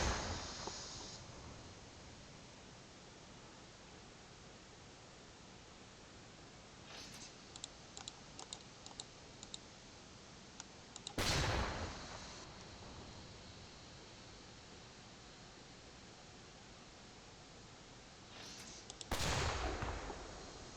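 Submarine deck gun firing in the UBOAT video game, with two loud booming shots spaced several seconds apart over a steady noisy background and faint clicks between them.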